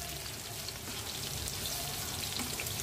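Spiny gourd and potato pieces fry in oil in a pan, a quiet, continuous sizzle with faint crackles and light spatter, heard alone at low volume.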